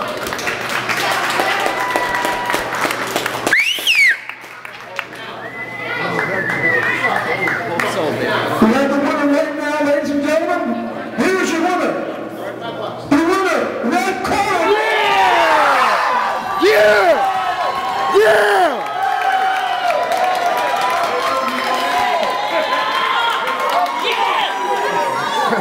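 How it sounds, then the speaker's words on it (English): A crowd cheers and claps for a winner, a steady roar of applause, shouts and chatter that runs through the whole stretch, loud and close, with a voice occasionally rising above it. "Let's give him a nice round of applause."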